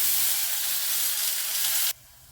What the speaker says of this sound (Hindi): और अब इसमें ऐड कर रही हूँ कटकी हुई प्याज